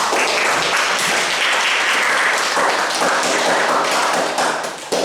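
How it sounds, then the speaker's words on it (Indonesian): A roomful of students applauding a group after its class presentation, a dense and loud burst of clapping that holds steady throughout before thinning slightly right at the end. "Tepuk tangan untuk kelompok."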